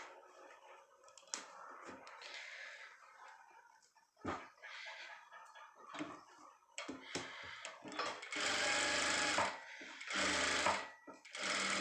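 A sewing machine stitches a designer blouse, running in short bursts and then longer steady runs of rapid mechanical whirring, close by with little else around it.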